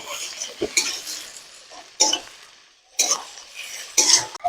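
A spoon scrapes and knocks in a pan as ginger, garlic, chilli and cumin paste is stirred into fried onions, in several separate bursts about a second apart, close and fairly loud.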